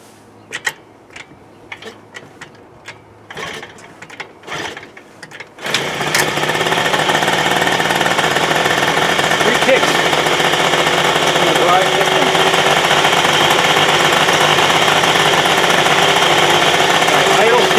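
A 1980 Suzuki FZ50 moped engine is primed and started: a few clicks and rattles, then at about six seconds the small two-stroke fires and keeps running with a loud, steady buzzing drone close by.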